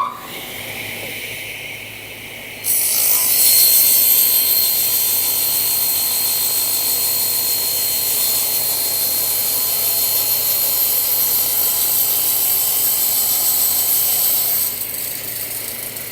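A circular disc saw cuts through MDF board with the blade set 20 mm high, a loud steady whine starting after a brief quieter run-up and holding evenly before easing off near the end.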